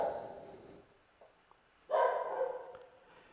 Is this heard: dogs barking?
yes